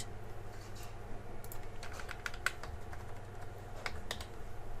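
Sparse clicks of a computer keyboard as a few keys are typed during a Photoshop image-resizing lesson, crisp but light over a low steady hum, with short gaps between keystrokes.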